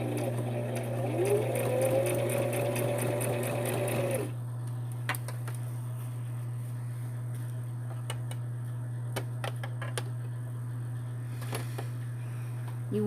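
A sewing machine stitches a fabric journal closure, running in a fast, steady, close whir for about four seconds, then stopping; a low constant hum and scattered small clicks and knocks follow.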